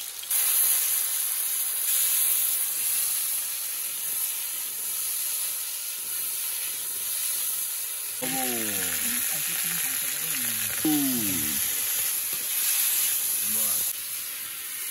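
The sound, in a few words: potatoes frying in oil in a wok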